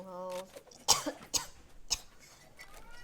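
A few sharp, close coughs burst out in quick succession from an esports caster during a tournament broadcast, with a brief voiced sound before them and quiet background noise after.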